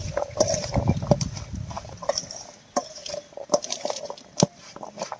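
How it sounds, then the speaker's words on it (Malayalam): Mango pickle spices being mixed with vinegar in a bowl, with a spoon clinking and scraping against the bowl in repeated short strokes, close and moderately loud, with no talking. "ഇനി ഇതെല്ലാം കൂടി നന്നായിട്ടൊന്ന് മിക്സ് ചെയ്ത് യോജിപ്പിക്കാം."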